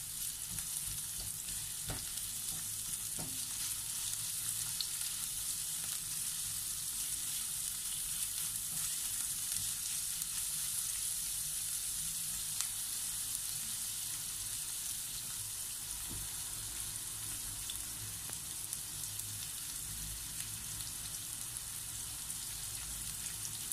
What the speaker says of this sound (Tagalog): Saute the onions for a few seconds.